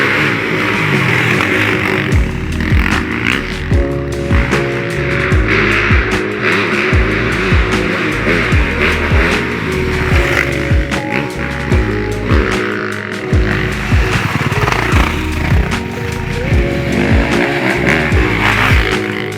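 A 2024 Yamaha YZ450FX off-road motorcycle roars loudly while being ridden, its engine pitch repeatedly rising and falling through rapid revs and gear changes over a continuous, aggressive drone.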